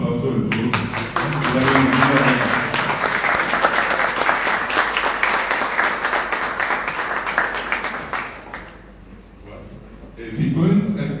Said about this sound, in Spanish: con el aplauso de todos